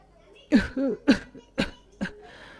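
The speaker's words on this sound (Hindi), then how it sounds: "सुबह से देख रही हूँ आपकी खांसी है कि कमी नहीं हो रही।" Four sharp coughs in a row, close and fairly loud, with a short throaty rasp between the first two; no talking.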